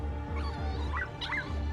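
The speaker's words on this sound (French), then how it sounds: "Les aboiements semblent le suivre partout." Puppies barking and yipping in short high-pitched bursts, a few quick yaps and whimpers over a low background rumble, fairly faint and close.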